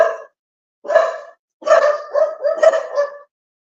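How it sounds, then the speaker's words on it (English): Several household dogs bark indoors in a close, loud series: a short bark, a pause, another, then a rapid run of overlapping barks before it goes quiet. "What on earth are you guys barking at?"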